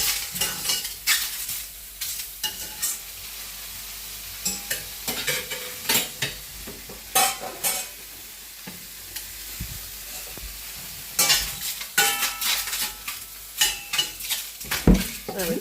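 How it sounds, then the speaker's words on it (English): King oyster mushrooms sizzle in a hot pan while a utensil stirs and scrapes them in bursts of clattering, close and lively, without any speech. "once the pan is heated, then we'll put the king oyster mushrooms and start frying it"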